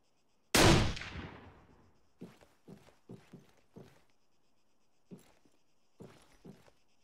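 Video game gunfire: one loud, sharp shot with a long decaying tail, followed by a series of quieter, evenly spaced short bangs and thuds at mid distance, with no talking.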